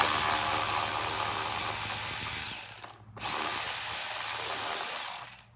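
A power tool, likely a ratcheting driver, undoing an 8mm bolt on a DRZ400SM motorcycle: a loud, close, rapid ratcheting whir in two long bursts separated by a brief pause.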